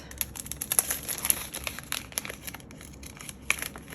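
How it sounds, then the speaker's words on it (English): Paper envelopes from a K-pop album set being torn open and crumpled, with close, fairly quiet crinkling and ripping in an uneven run of small bursts. "I am destroying these envelopes."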